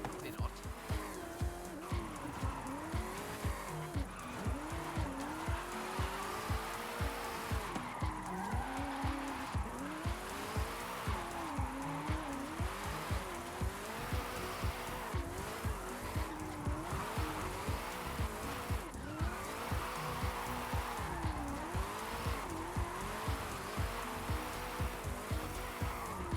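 Ford Mustang Mach-E drifting in Forza Horizon 5, with continuous loud tyre squeal in repeated wavering swoops as the car slides through corners, over a constant motor whine, close and sustained.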